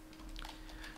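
Computer keyboard typing of a telnet command, a short run of soft quick key taps over a low hum, faint and close.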